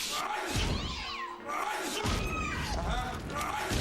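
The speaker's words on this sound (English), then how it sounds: "Do you have a cat?" A cat meows a few times amid a loud, busy background during a beer commercial aired at a Cubs ballpark broadcast, with voices talking around it.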